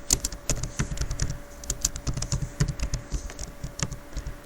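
Quick, uneven keystrokes on a computer keyboard as a name is typed into a GitHub profile field, close and clear with no talking.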